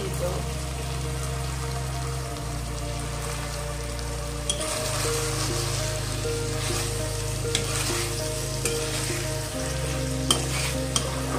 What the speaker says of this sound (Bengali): এবার একটু হাই ফ্লেমে দিয়ে আমি এটাকে কষিয়ে নেব।